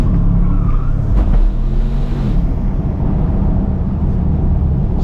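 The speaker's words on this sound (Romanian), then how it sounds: "sunetul ăsta de evacuare este minunat" Exhaust of a Bentley Continental GTC Azure, a loud low engine drone close by that holds steady with a slight rev rise early on, no talking over it.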